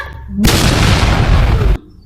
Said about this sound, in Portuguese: uma big explosão